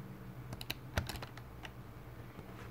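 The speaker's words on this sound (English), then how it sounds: "you will want to type in Run in the search bar" Short typing on a computer keyboard as a word is entered into the Windows search bar: about a dozen light, close key clicks in a quick irregular burst over a quiet room hum.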